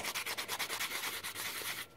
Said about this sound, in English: It's kind of more of a light sanding